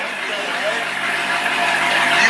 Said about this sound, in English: You hear that, bro? That's Nico's car.